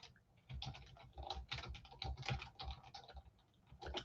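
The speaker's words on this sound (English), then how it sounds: "And you would type it in" Quiet bursts of typing on a computer keyboard, irregular clusters of soft key clicks close by with a few short pauses.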